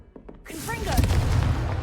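The Confringo blast spell goes off in the video game Hogwarts Legacy, a sudden booming burst that gives way to a whooshing, crackling roar and lingers loudly for over a second after a few quiet taps.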